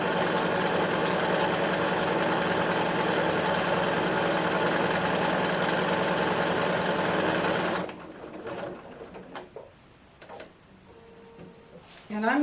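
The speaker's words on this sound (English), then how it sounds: "Now what I'm going to do is I'm going to go sew on those lines." A sewing machine runs continuously, stitching lines across quilt triangles with a steady, even hum for about eight seconds, then stops. Quiet handling noises follow.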